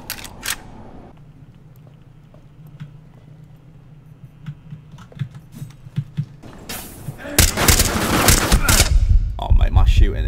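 Gunfire in the Rainbow Six Siege video game, with scattered single shots early on building into loud, dense bursts of automatic fire in the last few seconds, mixed with other game sounds.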